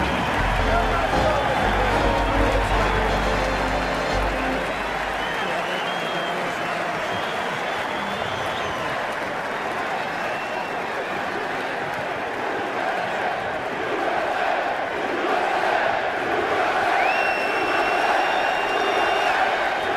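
A packed Yankee Stadium crowd cheers and claps without pause, a broad continuous roar with occasional shouts and whistles on top, while a voice talks briefly near the start.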